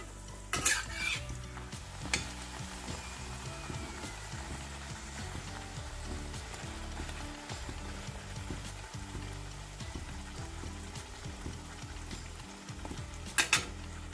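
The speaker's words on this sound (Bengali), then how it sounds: "আমার জন্য লুচি কটা ভেজে নিলাম" Luchi fry in a pan in a home kitchen, giving a steady, close sizzle for the whole stretch, with occasional clinks of a utensil and brief scraping knocks.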